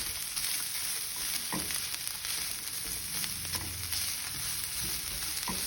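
Onion and serrano pepper fry in a pan over medium-low heat, a steady close sizzle with a few stirring clatters and scrapes, no voices.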